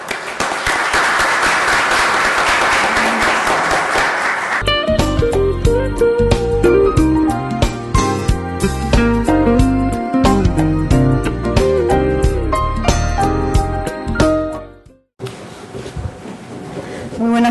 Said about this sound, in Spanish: vamos a recibir a la autora con un fuerte aplauso